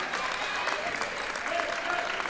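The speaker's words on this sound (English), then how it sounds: "Choice gets a hand from the crowd" Sustained applause from a good-sized crowd in a gym at a high school girls' basketball championship game, steady clapping throughout as a player checks out late in the game, with faint voices underneath.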